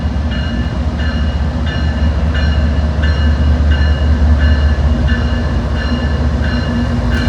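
A street-running freight train rolls through La Grange, Kentucky on a dreary day, carrying intermodal and autorack cars, with a steady loud low rumble and regular clicking wheel beats on the rails across the whole stretch, no voices.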